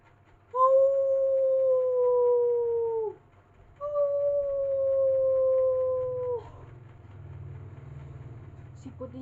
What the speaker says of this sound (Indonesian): Jangan-jangan ada serigala di sini.